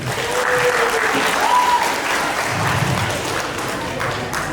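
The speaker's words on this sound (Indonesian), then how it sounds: "Oke, tepuk tangan buat Denny." An audience at a school political education session applauds a student, steady dense clapping from a crowd filling the whole stretch with some faint voices mixed in.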